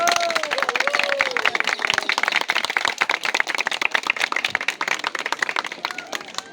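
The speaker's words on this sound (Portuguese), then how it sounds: "Pode aplaudir sua igreja." Dense, rapid clapping from a church congregation fills the space, steady and lively throughout, with a few faint voices rising above it.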